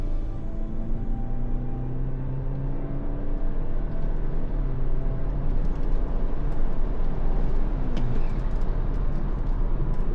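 A Stage 2 tuned BMW F30 driving, its engine droning steadily with rising and falling tones as it pulls, loud and continuous against road and wind noise, with no speech.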